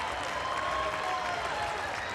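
A tennis crowd at the 2021 US Open, third-round match between Karatsev and Brooksby, breaks into applause: a steady wash of clapping that holds for a couple of seconds with some crowd noise mixed in.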